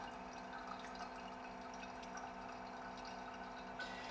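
Filtered water from a SANS reverse osmosis purifier drips and trickles steadily and faintly, with no one talking, over a constant low hum.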